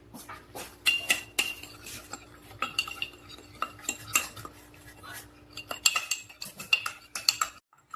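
Spoon clinking and scraping against a bowl while stirring milk into powdered sugar for a cinnamon bites glaze, in irregular bursts of close, bright taps with short pauses between.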